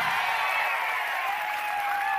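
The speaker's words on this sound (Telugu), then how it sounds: "సిద్ధంగా ఉంటే చప్పట్లు కొట్టమని చెబుతున్నా" Crowd applauding and cheering at a political road show in Mandapeta, heard as a dense, continuous wash of clapping from a large outdoor gathering, with a faint whistle or horn tone running through it.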